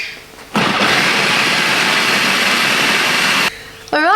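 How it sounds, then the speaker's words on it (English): A blender purees avocado tofu pesto with garlic, a loud steady whir that runs for about three seconds and then cuts off abruptly, with a rising whine starting just after. "then you're going to puree this till it's smooth"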